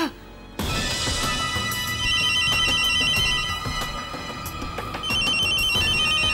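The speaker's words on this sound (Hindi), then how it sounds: "माँ का फोन है।" A telephone rings in a Hindi TV drama scene, with bright repeating electronic trills in two bursts over a busy background of music and other sound.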